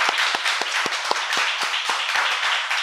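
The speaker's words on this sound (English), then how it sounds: "I love how the people just coming in think we're clapping for them." A live audience claps in a steady, even rhythm, about four beats per second, loud and close, with a dense wash of many hands under each beat and no talking.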